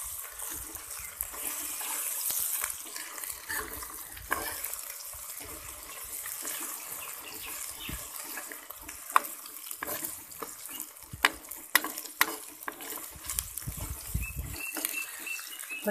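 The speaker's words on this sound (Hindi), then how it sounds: "अदरक का पेस्ट डालेंगे। 2 से 3 मिनट तक फ्राई कर लेंगे अच्छे से।" Ginger paste fries in a pan for fish curry with a soft, steady sizzle, broken by scattered clicks and scrapes of stirring, fairly quiet and close, with no talking.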